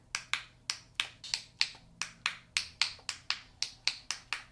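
A fidget toy clicks rapidly and steadily, roughly eighteen crisp, sharp clicks up close, with no voices and only faint background hum.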